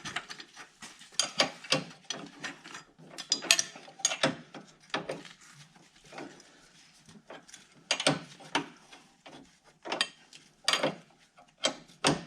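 A ratchet wrench tightens a bolt on a Mazda 3 lower control arm, giving uneven bursts of close clicking and mechanical ratcheting with short pauses between strokes.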